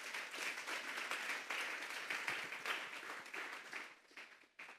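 A church congregation applauds with fairly quiet, dense clapping that holds steady and then thins out and fades near the end.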